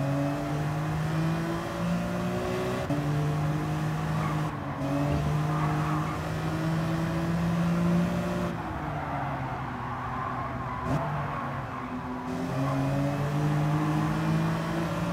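A BMW M3 racing car in Gran Turismo 7, its engine a loud continuous roar that climbs and drops in pitch through gear changes, with brief lifts off the throttle.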